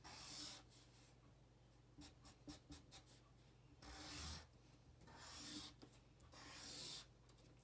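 Black Sharpie marker drawing on white paper, close scratchy squeaking strokes in short bursts and longer sweeps, faint and intimate with quiet gaps between lines.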